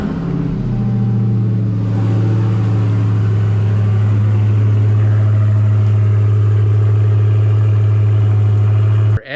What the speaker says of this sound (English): my exhaust has gotten a little bit louder